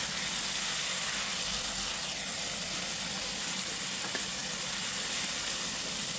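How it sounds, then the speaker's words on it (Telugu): Broad beans fry in a pan with green chillies, curry leaves and onion, a loud continuous close sizzle and hiss with occasional stirring, no talk. "ఇలాగా ఇందులోనే ఉడికించుకుని చిక్కుడుకాయ వేసుకుంటున్నా"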